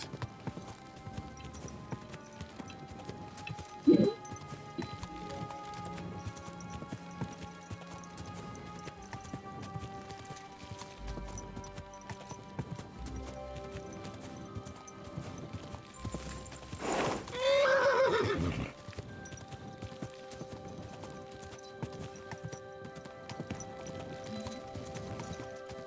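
In the medieval video game Kingdom Come: Deliverance II, a horse's hooves clip-clop steadily under a music bed, with a short sharp thud early on and a loud, breathy neigh rising midway.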